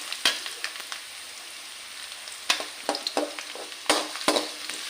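Garlic and ginger fry in hot oil with popping mustard seeds for a fish pickle, a steady close sizzle broken by sharp crackles and pops, with no talk.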